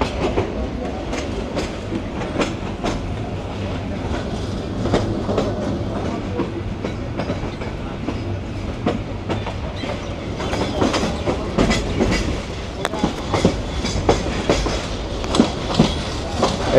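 A passenger train moves through Gafargaon railway station, wheels clattering rhythmically over the rails with a steady rumble and occasional squeals, heard from on board.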